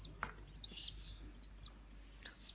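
Three or four small chicks in a nest on a bird farm give thin, high chirps in short separated bursts, fairly faint against a quiet low hum.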